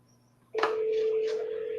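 A steady telephone dial tone starts abruptly partway in and holds loud and continuous, with no speech over it, as a call is placed.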